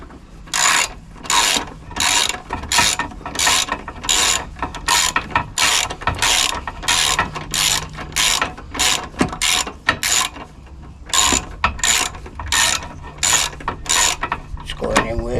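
A ratchet spanner tightens a fitting on a car being readied for an MOT, with steady, loud, close clicking strokes repeating in even bursts and brief pauses between them.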